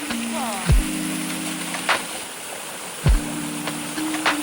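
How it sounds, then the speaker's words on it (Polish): A jungle waterfall in Sri Lanka makes a steady, broadband rush of falling water close by. A few brief knocks and tones cut through it, and there is no speech over it. "teraz przechodzimy sobie przez wodospad."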